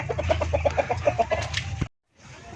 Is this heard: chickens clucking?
yes